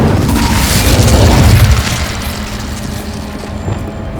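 An Incendio fire spell in Hogwarts Legacy bursts with a loud, deep whooshing boom that swells for a couple of seconds and then fades into a lower rumbling wash.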